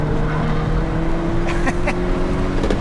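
A Hyundai Kona N drones loudly and steadily from inside the cabin on a race track, engine note holding as it accelerates out of corners, with a few faint clicks and squeaks over the engine.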